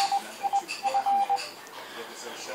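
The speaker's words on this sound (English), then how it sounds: "so there was a Morse code ID there" A Raspberry Pi based IRLP radio node sends its Morse code identification as a short run of clean, steady beep tones in dots and dashes, clear over a faint hiss.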